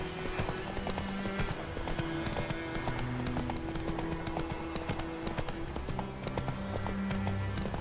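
Hooves of the horse Roach clip-clop steadily beneath a continuous game soundtrack in The Witcher 3, with a brief whinny possible; the hoofbeats are moderately loud but partly masked by music.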